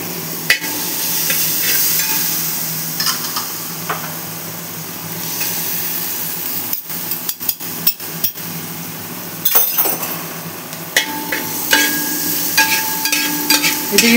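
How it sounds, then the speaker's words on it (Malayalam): Onions and masala for potato biriyani sauté in a pan over a medium flame, giving a continuous sizzle punctuated by close clinks and taps of a stirring spoon against the vessel. "ഇത് ഈ വഴറ്റി വരട്ടെ."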